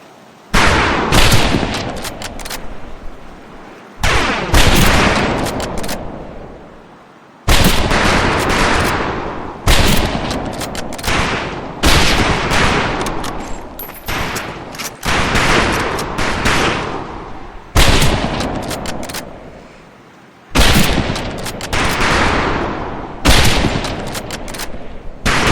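Rifle gunfire at a firing range in the World War II shooter game Medal of Honor Pacific Assault: about ten loud, sharp bursts of shots, each decaying quickly, spread unevenly across the clip with short pauses between.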